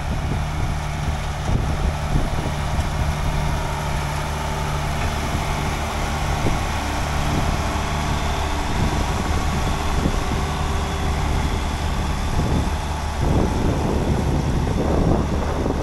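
A steady low engine drone of an old John Deere 4230 tractor chugging along while working in a field, rumbling continuously with wind buffeting the microphone throughout.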